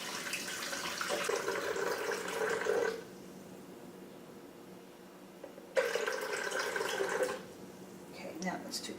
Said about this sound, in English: And I'm going to start with 2 cups of water.